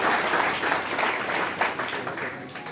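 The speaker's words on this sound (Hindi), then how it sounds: "एक बार जोरदार ताली बजा करके अभिनंदन करें" An audience at a BJP event in Delhi claps loudly to welcome state president Adesh Gupta, a dense, sustained burst of applause that carries through the whole moment and fades slightly toward the end.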